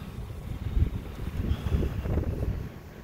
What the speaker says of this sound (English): Ooh, it's windy out.